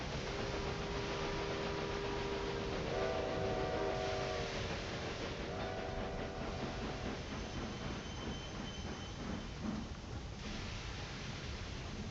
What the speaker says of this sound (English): Only thing I dislike still, using that whistle all the time.